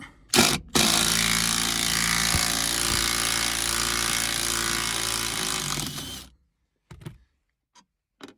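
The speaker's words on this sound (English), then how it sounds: "you have to undo this bolt here for the centre bracket" Power tool whirring steadily for about six seconds while undoing the centre bracket bolt under a Ford Mondeo Mk4 seat, loud and close, then stopping, followed by a few faint clicks and knocks.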